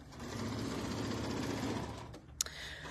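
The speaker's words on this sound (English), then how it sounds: "while she is going to be sewing the strips together" A sewing machine stitches fabric strips together for a table runner, a steady close mechanical whir that runs for about two seconds, then stops with a brief click.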